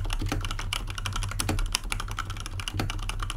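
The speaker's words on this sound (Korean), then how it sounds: "걸리는 느낌 없이 쑥쑥 들어가는 리니어함" Continuous close-up typing on a mechanical keyboard with linear switches, keys pressed quickly in a smooth, even stream of soft clacks over a faint low hum.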